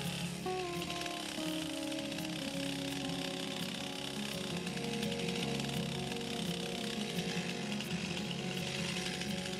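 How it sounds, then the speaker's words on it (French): A chainsaw cuts regular kerfs into an oak log while making lintels, a steady loud engine drone with a dense, unbroken buzz running continuously throughout, with no talking. "des traits de coupe réguliers sont pratiqués dans le bois à l'aide de la tronçonneuse"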